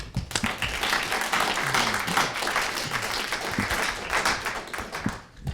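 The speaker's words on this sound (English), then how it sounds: "Let's give them a round of applause." Audience applause at a student government executive candidate forum, a dense wash of many hands clapping steadily throughout, fairly close and sustained before easing off near the end.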